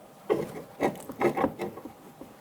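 A 15mm wrench turning the sway bar link nut on a 2000-2007 Ford Focus, a series of short ratcheting scrapes and rubs in uneven bursts, close and moderately loud.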